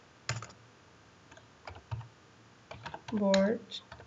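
Scattered keystrokes on a computer keyboard, quiet separate clicks with gaps between them, followed by a brief burst of voice near the end.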